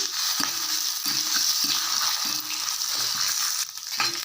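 Small shallots, garlic and chillies frying in a pan for a spicy kuzhambu make a loud continuous sizzle, punctuated by a rhythmic series of low scraping stirs about every half second, with no talking.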